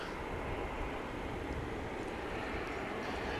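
Boeing 777 airliner on a flight to LAX, a steady broad jet engine roar heard at an airport, continuous and moderately loud with no talk.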